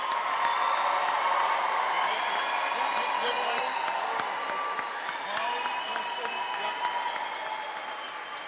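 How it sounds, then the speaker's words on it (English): A large audience at the Quaboag Regional High School Class of 2025 graduation ceremony applauds steadily, a dense wash of clapping with scattered cheers and whoops, loud and continuous throughout. "Give another round of applause to the class of 2025."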